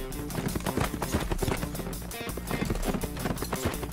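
Cartoon horses race in a children's animated show, their hooves pounding in fast, rhythmic gallops that stay loud and close without a break, with brief scuffs and thuds mixed in.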